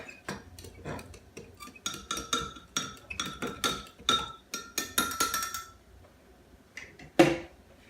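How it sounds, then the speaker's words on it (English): A utensil clinks and taps against a pan while stirring Sweet Baby Ray's barbecue sauce for pulled pork, a quick rhythmic run of close metallic knocks with a louder clack near the end and no talking. "Then we're just gonna stir it real quick."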